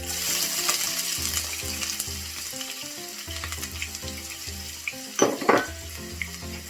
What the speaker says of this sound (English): The first thing to do, just like with the basmati rice, is to fry our onions